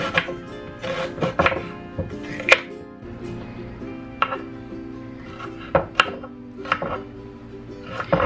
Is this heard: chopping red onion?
yes